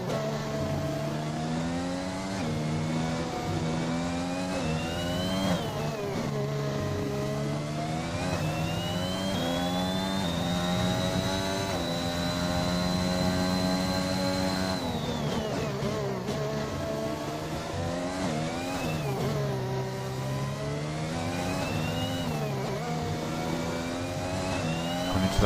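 Race car engine heard on board through a full lap in a sim racing game at Abu Dhabi, a loud continuous high-pitched whine rising and dropping with gear changes and braking, steady and alone without talk.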